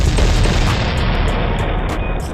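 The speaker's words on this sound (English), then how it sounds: "Fire the cannons." Booming cannon fire plays as a celebratory sound effect after a Tampa Bay Buccaneers touchdown, a loud dense blast rumbling continuously for a couple of seconds with no voices.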